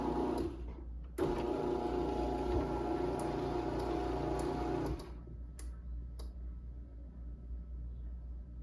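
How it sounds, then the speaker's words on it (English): A Genie 2040L garage door opener motor runs with a steady mechanical hum and rattle, halts abruptly with a click, then restarts to drive the door back up, followed by a few faint ticks. "it stops and it goes back up, and the light blinks 3 times on this machine"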